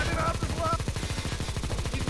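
Rapid automatic gunfire rattles in a Counter-Strike match, a steady close burst of evenly spaced shots running the whole moment, with faint voices underneath.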